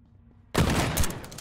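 Shotgun fire in a survival shooter game: after near silence, a sudden loud blast hits, followed by a dense, noisy burst of gunfire that keeps sounding to the end.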